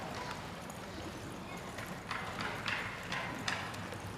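Horse hooves clip-clop in a Mexican charrería escaramuza training session, a run of light irregular hoofbeats that grows more distinct toward the end, heard over steady outdoor background noise.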